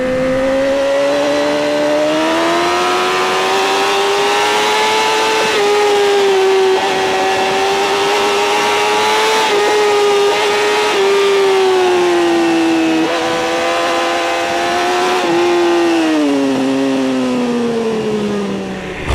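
A 2012 BMW S1000RR motorcycle engine revs hard while being ridden, a loud, continuous high-pitched howl that rises and falls with throttle and gear changes throughout, close and unbroken.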